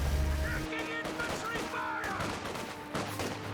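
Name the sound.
gunfire in the video game Company of Heroes 2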